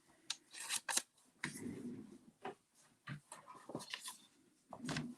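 Scissors snip through a sheet of cardstock to trim a half-inch strip for a pop-out card, a run of quiet, close, irregular cuts and paper rustles.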